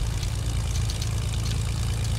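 A propeller airplane in Fortnite drones steadily with a low, heavy engine hum, close and continuous throughout with no talking.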